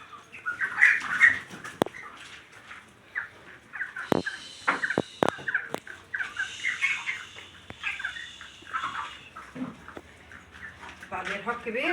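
Bursts of wing flapping and rustling from a chicken, close and irregular, with clucks and people talking throughout.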